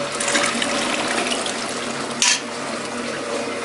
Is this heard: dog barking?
no